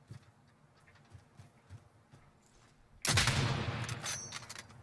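Video game gunfire in a 1v1 match starts abruptly partway through, a loud dense burst of rapid shots after quieter low rustling and faint clicks.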